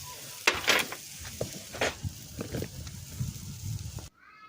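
Rib eye steaks pan-seared well done, sizzling steadily and close with scattered louder pops and spits, then cutting off abruptly near the end.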